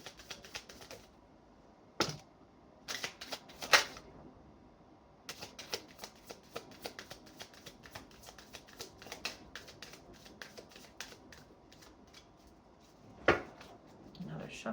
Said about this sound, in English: I'm just going to shuffle and see what flies out.